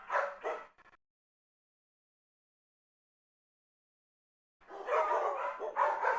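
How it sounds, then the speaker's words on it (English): Puppies barking in a cartoon, a couple of quick yips at the start, then silence, then a burst of lively overlapping barks at the end. "He followed the barking noises."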